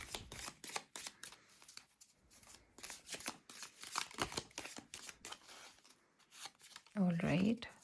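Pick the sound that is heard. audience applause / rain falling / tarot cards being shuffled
tarot cards being shuffled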